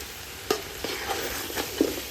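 Mutton biryani masala for Thalassery biryani, mixed with fried onions in a pot: a low sizzle broken by four or five slow scraping strokes of a spoon, quiet and close, with no voices.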